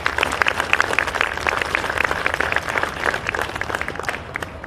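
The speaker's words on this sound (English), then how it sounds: "please give these soldiers and staff a round of applause" A crowd applauds soldiers and staff at an Army health clinic change of responsibility ceremony, with many distinct hand claps forming a lively, fairly loud ovation that holds steady before easing slightly at the end.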